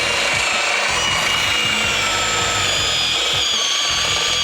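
A power drill grinds steadily through a Jeep JK Wrangler's metal frame rail at close range, enlarging a hole to 9/16 inch, a continuous high whine with rough, uneven churning underneath and no pauses.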